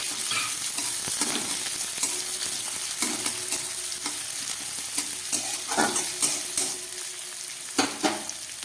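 Chopped onions sizzle in hot oil with panch phoron, a steady bright fry broken by occasional stirring scrapes and clinks, close up with no talk.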